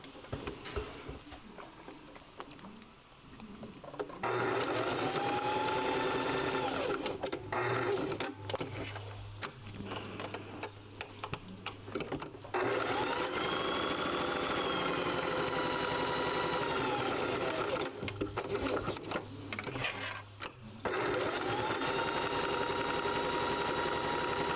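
Sewing machine stitching fabric bookmarks, a steady close mechanical whir running in long continuous bursts with brief pauses and a low motor hum between them.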